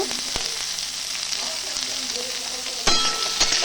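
Tomato, potato and onion fry together in a pan for a Bengali bori and posto dish, giving a steady close sizzle with occasional stirring clatter and a louder burst near the end.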